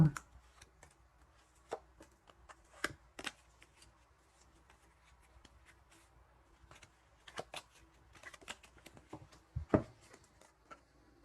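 Tarot cards being shuffled and drawn, with scattered crisp card snaps, flicks and light taps spread across the stretch, close and fairly quiet, with a few brief voice sounds between them.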